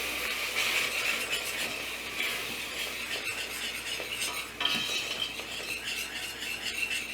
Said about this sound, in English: I like to add in a little bit at a time, just so it's easier to whisk in the dry ingredients